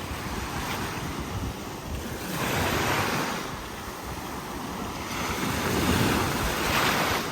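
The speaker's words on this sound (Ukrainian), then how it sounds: "Море сьогодні схвильоване і дуже чисте." Rough sea surf rolls onto a beach, waves swelling and breaking in slow surges with steady wind noise over the microphone and no voices.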